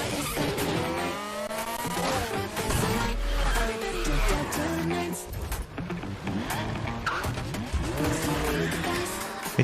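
Racing cars roar and screech their tires through a video game trailer, engines revving over dense music, loud and continuous with no talk.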